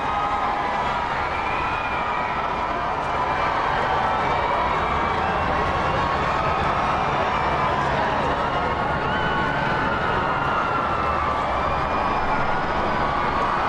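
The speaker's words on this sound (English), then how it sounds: "And into Whitehall, where more crowds waiting to see the first glimpse of the bridegroom." Large crowd in Whitehall, London, awaiting the royal wedding groom, a steady broad murmur of many voices with faint cheering, continuous and fairly distant throughout.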